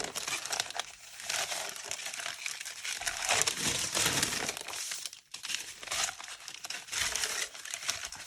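Textured napkin paper sheets are flattened and stacked by hand, making a continuous close crinkling and rustling with short pauses, loud and alone with no talk.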